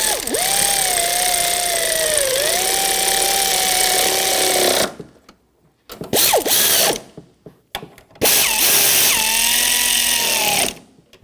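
Power tool running in loud bursts as it tightens the strut mount nuts on a 2007-2013 BMW X5, a long whirring run followed by several short stuttering pulses and one more sustained run, close by with no talking.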